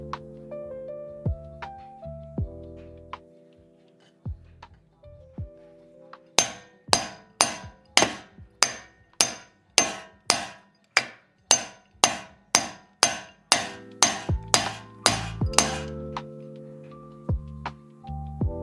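A hammer bangs on a metal part of a 2024 Honda Civic Si in a fast, even series of ringing clangs, preceded and followed by slower, scattered strikes.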